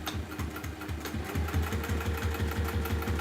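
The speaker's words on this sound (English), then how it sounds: "But I am just top stitching down" A sewing machine top stitches a wax tote bag with a loud, close mechanical hum and an even, rapid needle rhythm that speeds up and holds steady.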